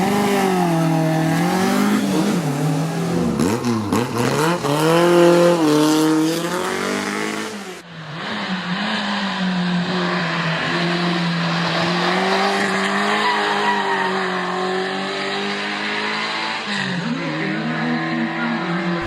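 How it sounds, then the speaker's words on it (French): A Porsche race car roars past at close range at a historic hill climb, its engine revving and changing pitch as it accelerates through the gears, then fading off into the distance. "Là, on vient de voir une Porsche passer."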